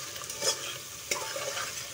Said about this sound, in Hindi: सो व्यूअर्स, हमारा चिकन जो है वो सॉटो हो रहा है